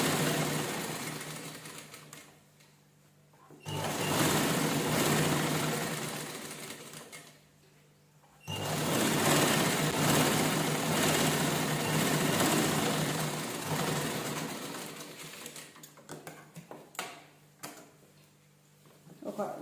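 Domestic sewing machine stitching saree fabric, a fast close mechanical whir in two long bursts separated by brief pauses, with a short voice near the end.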